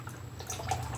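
Dirty engine oil drains from a Nissan during an oil change, a short, steady liquid trickle with faint dripping, close and quiet, with no one speaking.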